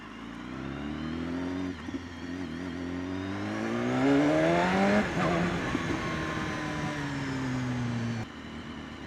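A 2016 BMW S 1000 RR sportbike engine revs up through a long rising whine, then drops in pitch with quick throttle blips as it downshifts, heard close from the rider's position over steady wind noise.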